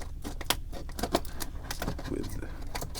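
Scissors cut open the plastic packaging of an Auto World GT40 Ultra Red model car, producing a run of close crinkling rustles and sharp snips at moderate level.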